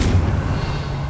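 Confringo blasting spell exploding in Hogwarts Legacy combat, a loud deep boom that decays into a rumbling roar and lingers under the game's ongoing effects.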